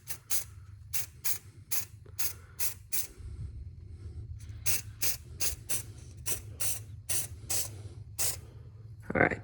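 Aerosol can spraying black paint onto car bodywork in short repeated bursts, a rhythmic series of close, sharp hisses separated by brief pauses, with a faint low hum underneath.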